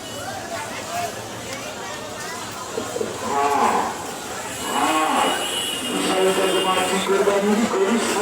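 Cattle at a crowded Eid sacrifice livestock market, with several loud, drawn-out moos rising over a constant babble of many people talking nearby.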